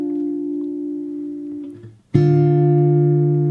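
A steady fingerstyle acoustic guitar passage: a sustained note fades out, then a fresh note on the 3rd string rings out brightly and holds, with no talking.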